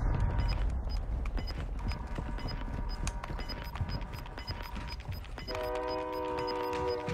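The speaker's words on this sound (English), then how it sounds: "The truck was honking its horn" In a video game, a truck's horn sounds near a train, a sustained multi-tone blast entering late over rhythmic rail clatter and steady background rumble.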